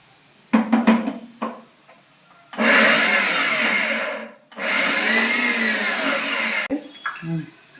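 Mixer grinder grinding sesame seeds and peanuts, two loud whirring bursts of several seconds each, close, with short clattering pulses before and after.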